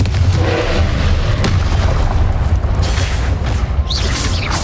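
A loud, rumbling blast from the Confringo fire spell in Hogwarts Legacy, booming deep through a busy game-combat soundscape with a sharper burst near the end.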